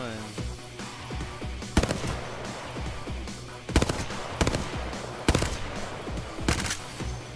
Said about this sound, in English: So you gotta hip fire this one.